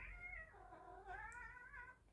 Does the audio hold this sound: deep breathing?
no